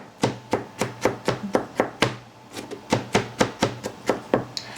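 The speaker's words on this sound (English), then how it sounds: "you want to chop it up fine" Garlic cloves chopped finely with a knife on a cutting board, a steady run of sharp, close, evenly spaced chops, about four per second.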